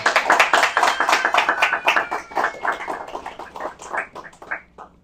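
A church congregation during a Bible study class applauds, a burst of many close hand claps that gradually thins out and fades toward the end.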